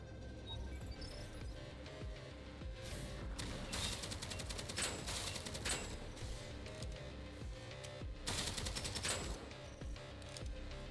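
A legendary gun in Deadzo fires at enemies in rapid bursts of crackling automatic shots, with clusters of sharp hits and mechanical clatter over a steady game backdrop.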